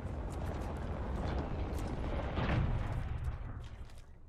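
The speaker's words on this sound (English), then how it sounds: "Gunfire. No, gunfire the way we came." Gunfire and explosions rumble in a battle royale video game, a dense, distant-sounding barrage of booms and shots that peaks midway and then fades slightly.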